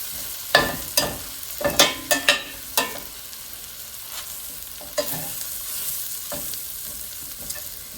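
Flour sprinkled into a pan of leftover-ham sauce sizzles steadily while a spoon scrapes and stirs, with several sharp clacks early on and scattered knocks later, no talking.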